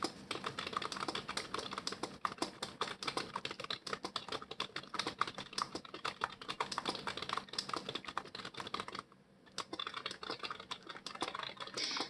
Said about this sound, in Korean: 그 다음에 한글 타이핑 하겠습니다.